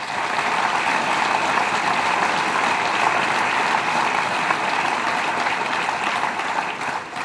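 Sustained, loud applause from an audience welcoming county legislators, town supervisors and mayors at a Syracuse public event, steady and dense throughout with no break.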